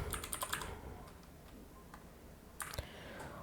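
Quick keystrokes tapped on a computer keyboard, a short rapid burst of clicks followed by a pause and a second brief flurry, faint and close with no talking.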